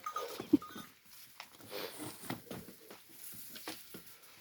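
Sheep crowd and jostle eagerly around barley and fattening feed on a village farm, giving a scattered patter of hooves and muzzles with an occasional faint bleat, moderately close with no talk.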